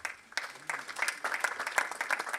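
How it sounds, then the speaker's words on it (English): Graduation ceremony audience clapping after a guest speaker's prompt, a brief round of moderate, slightly distant applause that builds quickly and holds steady. "Can we give a clap?"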